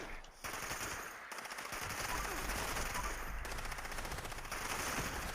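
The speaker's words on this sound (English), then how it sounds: "This 50 cal is beautiful." A .50 cal machine gun in Fallout 76 fires rapid, sustained bursts, close and steady, with a dense rattle over a low roar that runs for several seconds with barely a pause.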